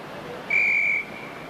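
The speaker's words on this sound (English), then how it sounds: "Jim Johnstone whistles to get the game underway." A referee's whistle gives one steady, piercing blast of about half a second to start a rugby match between Jedforest and another club in the 1988-89 season, heard over a faint ambient hiss.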